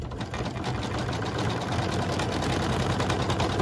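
An embroidery machine stitching through a rope coaster runs with a dense, rapid mechanical chatter and a laboring low drone, steady and close, growing slightly louder as it works, with no voices.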